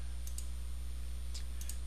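Computer mouse double-clicking while setting up OPC server software, heard as two quick pairs of faint, crisp clicks over a steady low hum.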